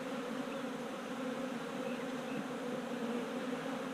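Honeybees at a beehive drone in a steady, dense buzz, a close and constant hum of many wings with no voices over it.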